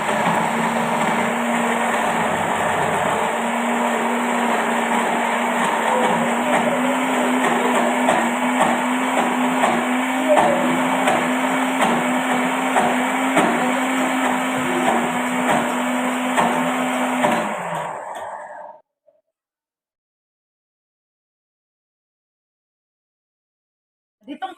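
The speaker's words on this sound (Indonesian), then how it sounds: "Kemudian kita blender" Electric blender grinding candlenuts with a little water, a loud steady whirring motor drone with rattling for about eighteen seconds before it cuts off abruptly into silence.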